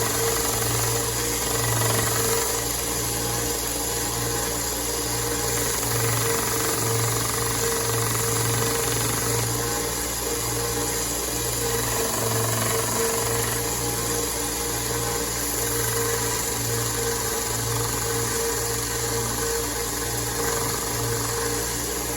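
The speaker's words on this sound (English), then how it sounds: "Now let's go over to the sander and I'll show you how easy this is without all that." A sander runs continuously against a wooden crankbait lure body, giving a steady, loud mechanical drone with a low hum and a rough grinding texture that holds evenly with no talking.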